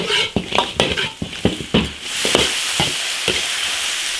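Eel and cured pork are flash-fried over high heat in a wok, sharp rhythmic spatula scrapes over a loud sizzle for about two seconds before the scraping stops and the frying hiss settles to a steadier, hushed crackle.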